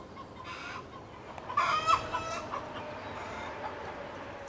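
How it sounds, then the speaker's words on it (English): Chickens cluck and squawk nearby, hungry and unfed, a brief burst of agitated calls in the middle, over a low steady background hum. "I suppose I should have fed them chickens before I did this. They're giving me heck for it."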